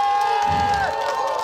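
Crowd cheering and shouting at an outdoor folk pumba performance at a festival in Anjirang-gol, Daegu, a steady close roar of voices with whoops lasting throughout.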